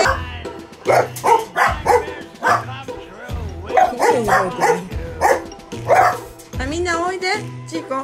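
A dog barks and yips repeatedly in an irregular rhythm, close by and loud, with people talking in between.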